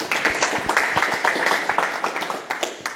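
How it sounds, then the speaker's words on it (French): Continued applause from a seminar audience, a crowd clapping steadily with distinct individual claps audible, fairly close and alone without talk. "Continuez à applaudir Harry"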